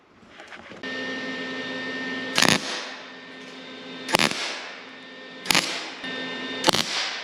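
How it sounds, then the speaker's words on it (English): Steady electric hum of a welder joining a piece of brake line, broken by four short, loud crackling bursts of welding spaced a second or two apart, close up with no talking. "I'm gonna try and weld that piece of brake line into this"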